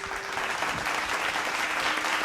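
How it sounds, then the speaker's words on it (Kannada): Steady applause for the musicians on a Kannada singing reality show fills the room, a dense, even patter of many hands with no voices over it. "ಸೊ ಮ್ಯೂಸಿಷಿಯನ್ಸ್ಗೂ ಒಂದು ಚಪ್ಪಾಳೆ ಬರಬೇಕು."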